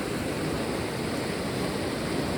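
Floodwater after heavy rain rushing hard, a dense, constant roar of churning water filling the whole scene with no breaks.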